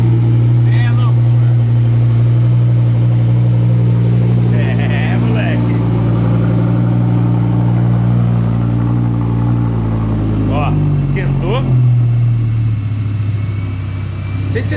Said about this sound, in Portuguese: mas dá tipo um assovio, mano, na hora que termina de cantar o cold start